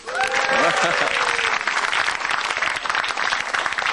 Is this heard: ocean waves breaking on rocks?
no